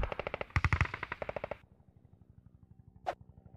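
Rapid gunfire from the Hand Simulator video game: a quick automatic burst of evenly spaced shots, loud at first, then a fainter, steadier rattle trailing off, with one sharp isolated crack near the end.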